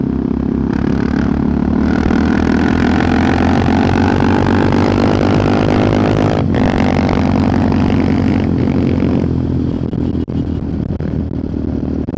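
A loud, steady Husqvarna 701 motorcycle engine rumbles continuously with a rough, popping, crackling texture, briefly cutting out midway before roaring on again.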